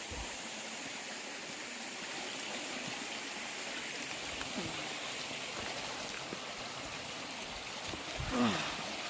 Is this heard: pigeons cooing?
no